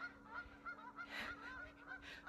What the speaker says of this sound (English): I'm getting a nice little chorus and the geese